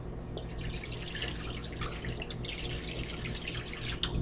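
Water pouring steadily from a tap into a pot holding a pound of butter, a continuous close rushing splash with brief dripping near the end.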